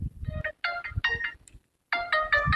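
A mobile phone ringtone plays in short melodic bursts with a brief pause, fairly close and clear, in a domestic scene with no talk over it.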